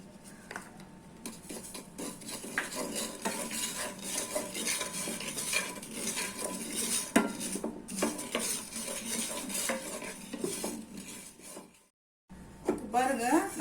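Poppy seeds roasting in a pan while being stirred, a continuous scraping and rattling of a spoon against metal with faint sizzle, close and steady, briefly pausing before resuming.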